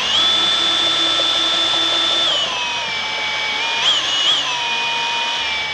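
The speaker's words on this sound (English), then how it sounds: "All right, I'm going to drill that in as well." A power drill whines at high speed, holding a steady pitch, then drops lower and wavers as it churns through thick molasses in a drum, loud and close.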